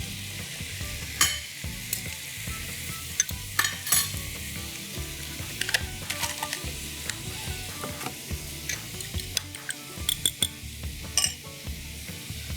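Eggs fry in margarine in a pan, giving a steady crackling sizzle throughout with frequent small pops and the occasional light clink of a utensil against the pan.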